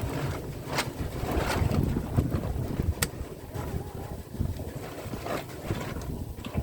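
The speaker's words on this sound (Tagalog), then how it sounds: "mahangin" Wind buffets the microphone in constant low rumbling gusts, with a few sharp crackles on top.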